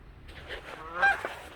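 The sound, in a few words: goose honking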